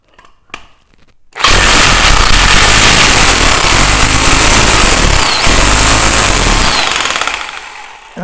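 A Bauer 1643E-B demolition hammer bursts into loud, rapid continuous pounding on a wood block for several seconds, with a high whine over the hammering, then winds down.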